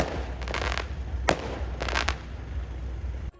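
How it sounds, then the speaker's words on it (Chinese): Several fireworks bursts crackle and pop in quick clusters outside during the Lunar New Year, heard from inside a camper van, sharp and fairly loud, separated by brief pauses against a low background hum. "外面突然放起了烟火"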